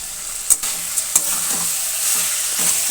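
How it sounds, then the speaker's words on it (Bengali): Fenugreek greens and lentil dumplings (bori) stirred in a hot pan, with a steady close sizzle and a few sharp scrapes and knocks of the spatula against the pan. "এবার একটু নাড়াচাড়া দিয়ে মিশিয়ে দেবো বড়িগুলো"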